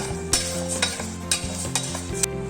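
Jaggery syrup for a dried mango pickle bubbles in a pan while being stirred, giving a steady simmering hiss punctuated by several sharp spoon clinks and scrapes, close up, with a low tonal hum underneath.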